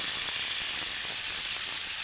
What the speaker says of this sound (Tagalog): Ipiprito muna natin siya saglit guys.